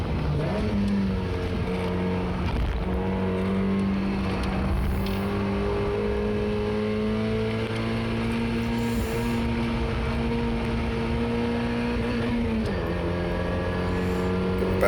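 A Mazda MX5 on track at Oulton Park screams at high revs, its engine note holding steady and then stuttering against the rev limiter, with sharp dips at gear shifts and loud, close in-car engine noise throughout.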